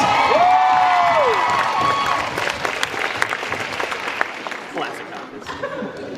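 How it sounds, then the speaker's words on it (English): Convention panel crowd breaking into applause and cheering, loud and dense at first with whoops and a voice calling out, then thinning into scattered clapping and laughter as people talk. "And a round of applause for Ray Chase."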